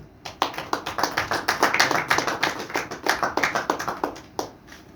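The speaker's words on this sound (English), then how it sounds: "please give a huge round of applause" Crowd clapping fills a hall at an India Cellular & Electronics Association industry event, a busy, rhythmic patter of many hands that rises quickly and fades to scattered claps by the close.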